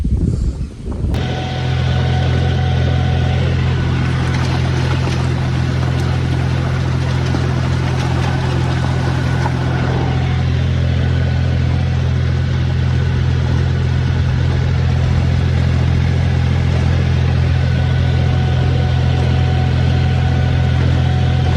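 A diesel tractor pulling a rotavator through a field drones steadily and loudly, a deep even engine rumble that holds without a break after a brief start.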